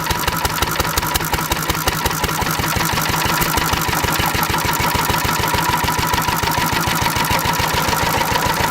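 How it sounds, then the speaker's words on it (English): Antique engine running on SeaFoam as its fuel, a fast, steady chugging beat of evenly spaced firing pulses that stays loud and close throughout, with no talking. "absolutely, you can run your antique engine on SeaFoam"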